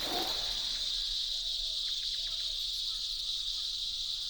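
A loud, steady cicada drone buzzes continuously in an Indian jungle, high-pitched and unbroken, with a few faint chirps beneath it.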